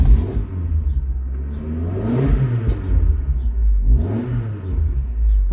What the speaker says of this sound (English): we're going to fire her up and hear that exhaust